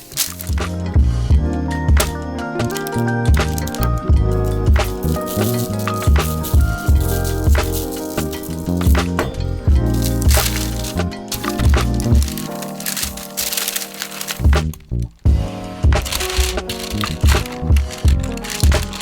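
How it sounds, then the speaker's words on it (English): Homemade butter being worked with salt on parchment paper, giving near, continuous crinkling, crackling and squishing in an uneven rhythm with a brief lull partway through. "Now I'm grabbing some parchment paper and I'm going to work in some salt."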